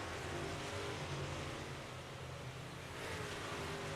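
A race car runs down the backstretch of a dirt track, its engine a steady, sustained roar carried at a distance, fairly faint and even throughout with a slight swell toward the end.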